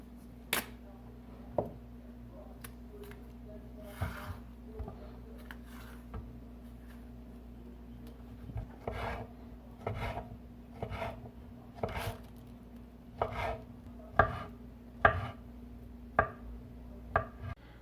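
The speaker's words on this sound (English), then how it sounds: "now I got all my bananas sliced up" Knife slicing bananas on a cutting board for pemmican, a series of soft, irregular chopping taps that grow more frequent and sharper toward the end over a low steady hum.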